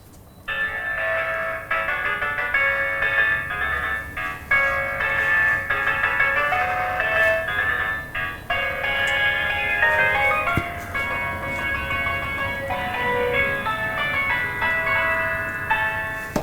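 A bright, tinkly electronic rendition of Chopin's Polonaise plays steadily from a children's sound book speaker, mechanical and evenly paced, with no voices.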